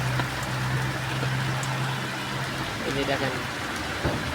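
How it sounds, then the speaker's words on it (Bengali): Heavy rain pours onto a waterlogged city street with rickshaws about, a dense, steady hiss filling the whole stretch while someone speaks briefly over it. "অনেক বৃষ্টি হচ্ছে।"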